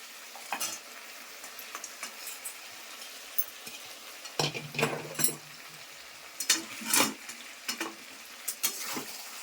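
Tengra fish hitting hot oil in a pan, sizzling and crackling in bursts with a few louder spatters among quieter stretches, heard up close and alone with no talking.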